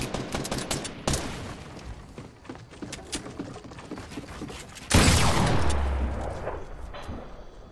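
Shotgun fire in a video game makes dense, crackling bursts of shots throughout, with a heavy blast near the middle that then fades. No one speaks over it.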